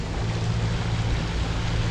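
A sailboat motor sailing at sea between Lombok and Bali, its engine giving a steady low drone under continuous wind and water wash, loud and unbroken throughout.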